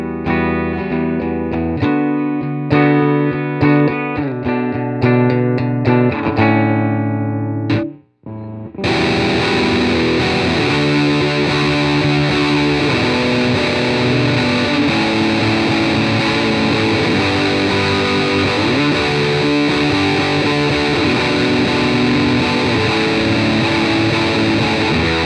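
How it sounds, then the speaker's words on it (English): An electric guitar through a UAFX Dream 65 pedal plays clean, sustained chords, pauses briefly, then returns loud and thick with heavy fuzz pedal distortion, no voices. "I'll play the clean and then I'll kick on the fuzz."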